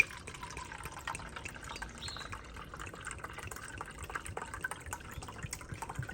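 White wine poured from a cup into a saucepan, a steady soft liquid splash and trickle running for several seconds at moderate volume, alone without talk.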